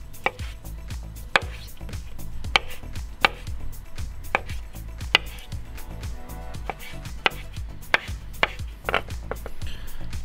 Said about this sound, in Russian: Нарежем и почистим киви.